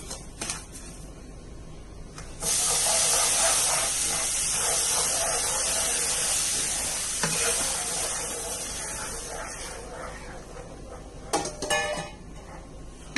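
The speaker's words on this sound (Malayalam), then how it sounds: "നമുക്ക് നല്ലതുപോലെ ഇളക്കി കുറുക്കിയെടുത്തു കൊണ്ടുവരാം" Hot water poured onto rava for mango kesari bursts into a loud hissing sputter in the pan, then settles to a softer bubbling hiss while a utensil scrapes and clinks as the mixture is stirred.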